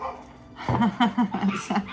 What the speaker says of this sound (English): See, now there's a dog yapping out there.